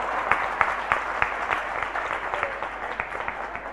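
An audience at a Hindi-language religious gathering claps in a steady, almost synchronized rhythm, with sharp beats about three per second over a diffuse crowd wash.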